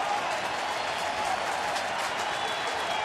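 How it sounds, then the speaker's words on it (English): A baseball crowd at a Houston–Philadelphia game rises and cheers, a steady, distant roar of many voices with scattered clapping, holding at an even level throughout. "Crowd coming to their feet."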